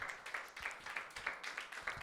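A church congregation claps for Jesus Christ in a steady, rhythmic beat, the claps coming in regular pulses at moderate loudness with no talking over them.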